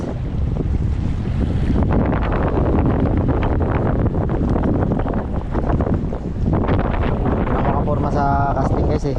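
Strong wind roars across open sea during a fishing trip, with a boat and waves churning beneath a loud, unbroken rush and a voice briefly under it.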